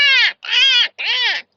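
Three loud, harsh caws from a crow, close by, evenly spaced with short gaps between them.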